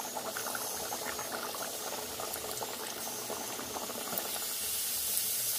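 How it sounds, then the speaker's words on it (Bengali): Pea-stuffed kachori deep frying one by one in hot oil in a kadai for a Bengali recipe, with a steady, dense bubbling hiss that stays even and fairly close throughout, with no talking. "এরকম করে এবার সবগুলো এক এক করে ভেজে নিতে হবে"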